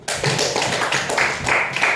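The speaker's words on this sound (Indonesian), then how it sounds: "kasih tepuk tangan dulu sama temannya" Students in a classroom clap for a classmate, a short burst of close, brisk clapping from a small group lasting about two seconds.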